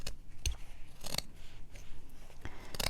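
Material scissors chopping through a thick old quilt with batting, several sharp close snips at an uneven pace in a quiet setting, no voices.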